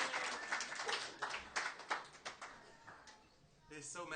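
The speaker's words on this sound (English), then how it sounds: "Another round of applause for Geli and Betsy." A small audience claps for performers Geli and Betsy at a benefit concert, a short burst of scattered hand clapping that tapers off, with someone speaking over it.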